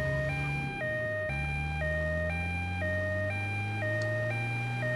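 A wailing two-tone vehicle siren in Grand Theft Auto: Liberty City Stories alternates steadily and loudly, with an engine-like hum rising underneath and no voices.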